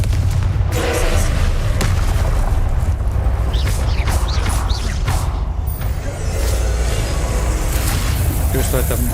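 A Confringo fire spell bursts in a Hogwarts Legacy battle, loud booming blasts and rumbling impacts layered over dense game music and effects, with a voice speaking over the action.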